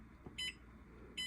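A Panasonic NN-SU65QB microwave gives two short, clear electronic beeps about a second apart after its timer button is pressed, close and alone against a quiet room.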